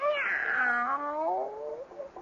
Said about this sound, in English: Come here, pretty brown cat.